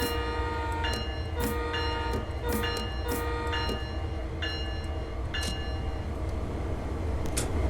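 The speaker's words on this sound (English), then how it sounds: "this is what one of the horns sounds like" A sustained, multi-toned train horn blares continuously, with sharp clicks and clanks breaking in at irregular intervals; a freight train on Cajon Pass in Train Sim World 3.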